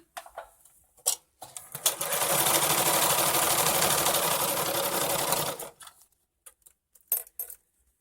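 A Singer sewing machine runs a short burst of zigzag stitching, a fast steady mechanical whirr lasting about four seconds, with a few clicks and handling knocks before and after.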